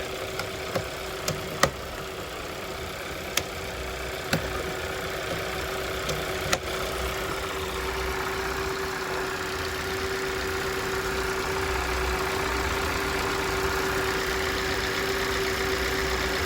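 A Hyundai Tucson engine idles steadily after a lower radiator adapter replacement, a constant low hum with a faint whine, punctuated early by a few sharp clicks or taps nearby.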